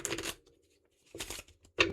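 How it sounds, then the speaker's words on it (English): Tarot cards are shuffled in three short riffling bursts separated by quiet pauses, close and clear with no talking. "One more shuffle."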